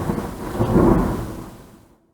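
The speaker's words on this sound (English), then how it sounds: "the lightning and rain should last for another 20 minutes" A rumbling roll of thunder during a rainstorm swells to a peak and then fades away over about two seconds, heavy and close, with rain hiss underneath.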